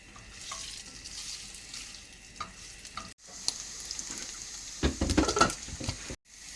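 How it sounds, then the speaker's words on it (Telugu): Cubes of paneer frying in oil with Kashmiri chili powder, a steady soft sizzle with scraping stirs and occasional clatter of a utensil against the pan, fairly close and moderate in level. "కాశ్మీరీ చిల్లీ పౌడర్ వేసుకుని ఆల్రెడీ కట్ చేసిన ఈ పన్నీర్ ముక్కల్ని వేయించుకోవాలి"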